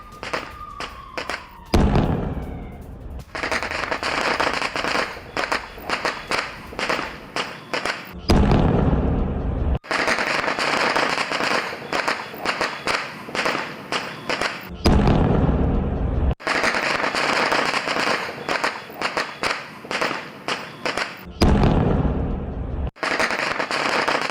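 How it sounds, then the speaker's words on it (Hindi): Repeated loud, booming explosions from a Ukrainian drone strike on Rostov, with crackling bursts and rumbling, coming in long waves separated by brief silences. "यूक्रेनी ड्रोन हमले से रोस्तोव में भीषण विस्फोट किस तरह से हुए"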